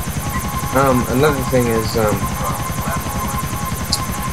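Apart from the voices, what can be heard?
helicopter flying in a video game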